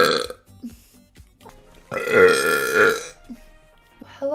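A long, loud burp from a streamer rumbles close to the mic for over a second, with bits of talking before and after it.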